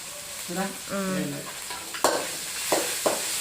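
Ginger paste hits hot oil in a pan with onions for vegetable biryani, giving a close sizzle and frying crackle, with a few sharp spoon clanks and stirring scrapes against the pan.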